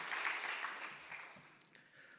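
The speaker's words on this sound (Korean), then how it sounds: "우리 하나님께 영광의 박수 올려드리겠습니다" Congregation clapping during a Sunday church service, a soft, fairly distant wash of applause that thins out and fades within a couple of seconds.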